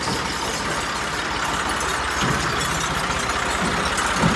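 A tractor with a trolley idling nearby, a steady low rumbling engine drone holding even throughout, with no talk.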